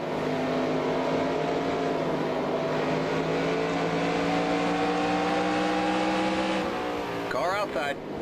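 Race truck engine in the NASCAR Racing 2003 sim at Bristol, a steady high drone with rising harmonics that builds as the truck draws near, then a brief shift as it passes close by.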